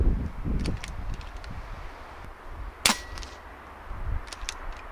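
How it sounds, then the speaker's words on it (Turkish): A PCP air rifle fires a single Spot On Vortex .22 (5.5 mm) 14.66 grain felt-free pellet outdoors: one sharp, fairly quiet crack stands out against soft background rustle and low ambient noise. "Sessiz sedasız atış yapmak için güzel bir set."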